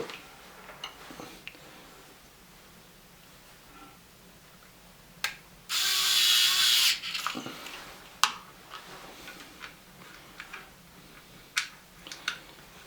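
Screws driven by hand with a small screwdriver into a cover on a car battery charger: scattered close clicks and ticks, plus one harsh, steady grinding burst lasting about a second.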